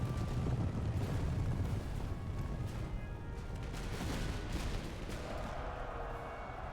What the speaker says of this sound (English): their artillery's now aiming at us